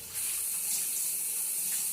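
A kitchen sink tap runs steadily while a dish is washed out, producing a continuous, fairly close hiss of splashing water with no talking.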